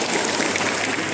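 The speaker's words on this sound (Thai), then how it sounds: "ขอเสียงปรบมือต้อนรับการแสดงชื่อชุดพังงาครับแดนซ์โดยทีมงานโรงเรียนเทศบาลบ้านแย่นยาวครับ" A crowd applauds at the opening ceremony of a provincial volleyball tournament in Phang Nga, welcoming a school dance performance. The clapping is dense and steady, fairly loud and close, and fills the whole moment without any speech.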